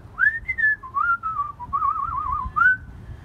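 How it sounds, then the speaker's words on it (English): A person whistles a short, wavering melody of a few sliding notes, clear and close with nothing else heard. "Today I'm going to teach you a little bit about whistling."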